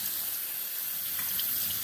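Tap water runs steadily into a sink while a tie-dye shirt is rinsed under it, giving a close, continuous splashing rush with no speech.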